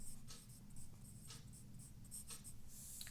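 A pen or chalk writes on paper or a board in short scratchy strokes, steady and close, with brief pauses between words, quiet throughout.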